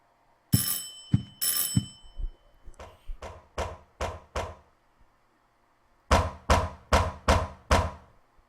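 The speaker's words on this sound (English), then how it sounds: "It sounds like somebody else is at the door." Knocking at the door in Silent Hill 4: after a sharp ringing sound come two series of firm knocks, first a slower run of about seven thuds, then after a pause five rapid, louder raps.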